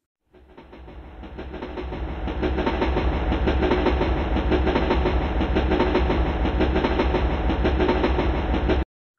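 A train runs steadily with a loud, continuous rumble and rhythmic clatter of wheels on rails, swelling in over the first couple of seconds and then holding close and even with no voices.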